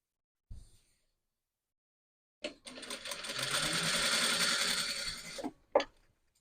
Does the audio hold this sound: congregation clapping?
no